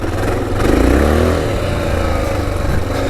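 An XR650L single-cylinder dual-sport motorcycle ridden on tight single-track trail, its engine loud and close, thumping and revving up and down with throttle and clutch work.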